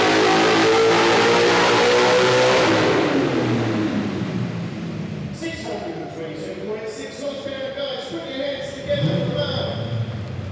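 A Nissan GTR turbo six-cylinder engine at Summernats, a loud roaring rev that holds high for a few seconds and then winds down, followed by lower idling and rattles, with people talking over it.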